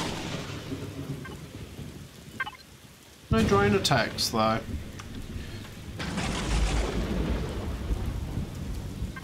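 Thunderstorm with rain in the video game Empyrion, a steady rain wash underneath a loud crack of thunder that rumbles on, with someone talking over parts of it.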